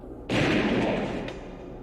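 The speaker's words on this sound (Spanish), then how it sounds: "El sonido de un segundo disparo lo aturdió de repente." A single loud gunshot blast bursts in and rings out with a long, rumbling decay; a faint second crack follows.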